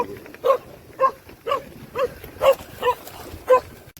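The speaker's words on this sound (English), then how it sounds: "especially when they have big dogs barking at you when you're going by" A dog barks repeatedly, about seven single barks at a steady pace, moderately close, with no talking.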